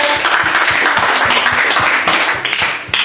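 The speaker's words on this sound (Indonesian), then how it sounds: "terima kasih tepuk tangan untuk Bapak" A classroom of students claps for a man, loud and close, with a steady rhythmic beat of claps running through the whole stretch.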